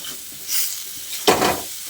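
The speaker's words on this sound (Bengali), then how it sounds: "এবার গুঁড়ো মশলাগুলো দিয়ে সব কিছুকে একসঙ্গে ভালো করে মিশিয়ে নিচ্ছি।" Mixed vegetables for a panchmishali curry being stirred with ground spices in a hot pan, two short scraping strokes over a soft frying sizzle, the second louder and sharper.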